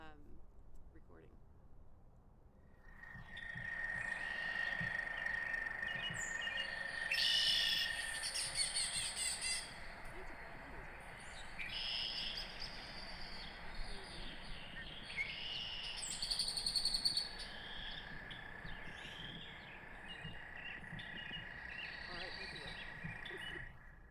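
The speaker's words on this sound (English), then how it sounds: "So if you heard maybe frogs, I believe there was a chorus frog in that mix." Fall nature recording of a chorus frog trilling steadily among assorted chirping and tweeting bird calls, all faint and distant over a soft outdoor hiss.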